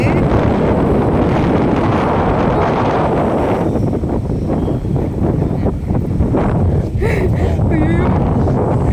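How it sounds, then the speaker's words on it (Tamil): Strong wind roars across the microphone in loud, rough gusts that ease slightly midway, while people speak briefly near the end. "காற்று, என்ன சாதா இப்படி அடிக்குது."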